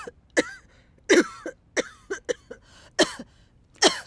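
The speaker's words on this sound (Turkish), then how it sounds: "sen çok kötü öksürüyorsun" A woman's harsh coughing from a cold in a Turkish drama scene: about eight close, loud cough bursts in irregular clusters over four seconds, with no speech over them.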